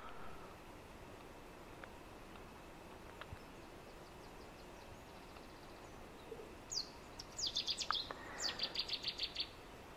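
A jay warbler gives harsh, agitated calls near a riverbank, a run of repeated scolding notes arriving late and building in a quick rhythm over a faint steady background hiss.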